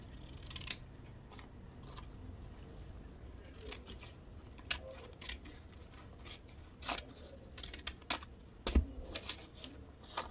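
Scissors trimming the seam allowance on fabric for a bubu gown, quiet crisp snips coming irregularly over about ten seconds with faint rustling between cuts.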